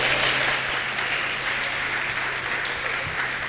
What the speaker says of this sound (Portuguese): Aplauda o nome do Senhor Jesus Cristo.